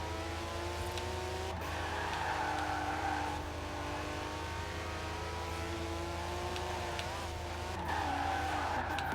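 A Porsche skids and slides in an 80s-themed driving game, its engine holding a steady drone while tires squeal in long sustained stretches, with the revs rising again near the end; no one talks.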